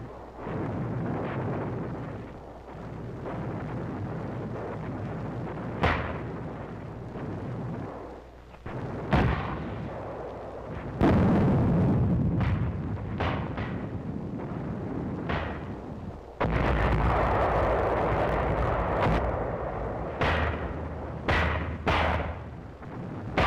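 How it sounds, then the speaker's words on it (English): Mortar and 155 mm artillery fire in the 1945 WWII fighting on Anguar, Palau Islands: a constant loud rumble broken by repeated heavy booming blasts at irregular intervals, with no voices. "We called back for mortars and 155s."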